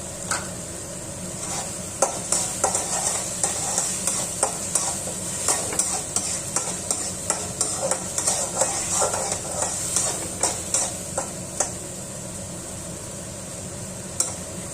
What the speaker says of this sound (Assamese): 1 মিনিটমান সময় লো ফ্লেমত এইখিনি ভাজি ল'ম।